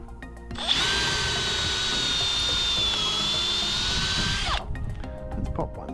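Power drill driving a 125mm bugle-head screw into timber framing of a house, one steady high whine that starts abruptly, holds for about four seconds and then cuts off, close and loud with no talk over it.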